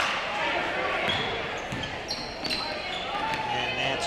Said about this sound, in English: Ball bouncing all around and tipped back.